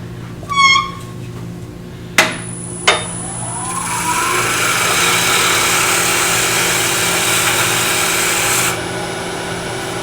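A small power sander spins up on a miniature vase, its steady whir rising and holding for several seconds before cutting off, after a couple of sharp clicks and a brief squeaky chirp.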